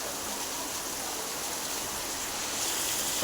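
Floodwater rushes steadily across a farm field in a broad, continuous wash, like a flooded stream flowing close by.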